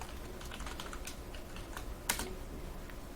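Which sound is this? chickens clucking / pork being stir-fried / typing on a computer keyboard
typing on a computer keyboard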